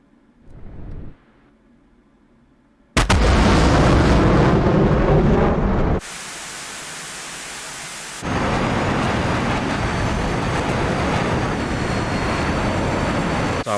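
AIM-120 missile launches in DCS flight simulator: a short muffled whoosh, then a sudden loud roaring blast of rocket motor that keeps going as a steady rushing noise, dropping and swelling again, with no talk.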